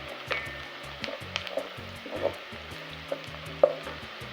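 Sautéed onions in hot oil sizzle softly while curry powder is stirred through them, with scattered scrapes and taps of the spoon against the pan under low background music.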